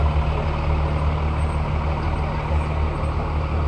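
A small brush fire truck rolls past during a small-town parade, its steady low engine rumble and broadband road noise filling the scene continuously at close range, with no talk over it.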